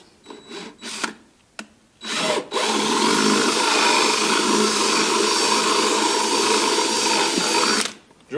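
A power drill runs in short bursts, then settles into a long, steady whirring as the bit bores through wood for several seconds before stopping, loud and close.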